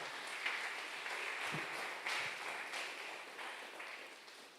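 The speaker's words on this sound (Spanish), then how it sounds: "Dele un aplauso fuerte al Señor" Church congregation applauding the Lord during a Sunday service, a steady, fairly faint wash of clapping lasting a few seconds with no voices over it.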